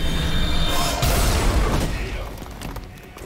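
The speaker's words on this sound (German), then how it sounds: "Explodiert und einen anderen getötet." An explosion in the video game Marvel's Midnight Suns hits with a loud burst and crackling debris, then fades over a couple of seconds while a voice talks underneath.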